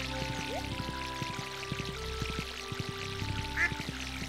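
Soft pouring water from a watering can on crops in Stardew Valley, a light trickle under cheerful game music with a brief quack-like chirp.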